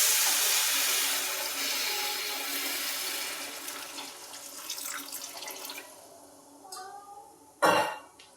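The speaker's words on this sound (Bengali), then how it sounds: "এখন আমি পরিমাণ মতো জল দিচ্ছি।" Water poured into a pan while cooking banana flower, a steady splashing pour up close that tapers off, followed by a brief sharp knock and a short voice.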